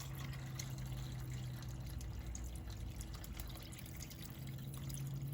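Water pours steadily into a slow cooker, a continuous splashing trickle with a low hum beneath it, moderately quiet and unbroken from start to finish.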